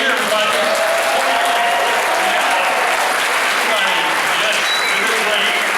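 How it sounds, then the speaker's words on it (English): Loud, dense applause from a crowd at a holiday concert, for the concert band, a close and continuous roar of clapping with faint cheering mixed in that stays strong from start to finish. "we're going to go ahead and turn that to a big applause for this concert band right here"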